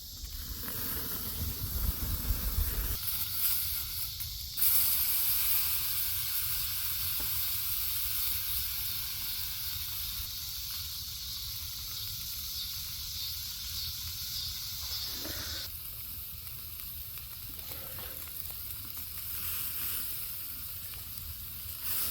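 A hamburger patty seasoned and cooked in olive oil sizzles steadily in a pan on a Firebox camp stove outdoors, a continuous loud hiss and crackle with a brief louder burst early on.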